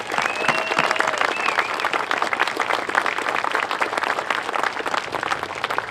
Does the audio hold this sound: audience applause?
yes